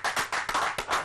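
Audience clapping at a live music show, a short burst of several brisk, loosely rhythmic claps close to the microphone.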